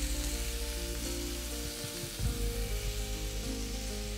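Beef tongue steak sizzling in a hot pan, a loud continuous close-up crackle over a strong steady low hum, with a brief clatter midway and no talking.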